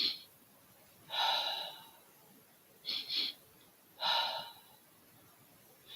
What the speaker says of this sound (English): breathing in twice through your nostrils and then a long sigh, exhale through the mouth